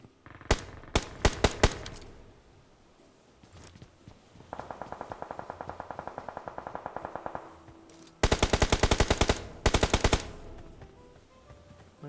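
A shooter video game firefight: quick bursts of automatic gunfire crack out loud and close, then a long steady stream of rapid shots from farther off, followed by more loud close bursts with brief pauses between them.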